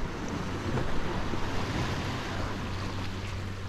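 Sea surf washing onto a rocky Turkish shore near Manavgat and Side, a steady broadband wash of waves with low wind rumble, moderately loud and continuous with no voices.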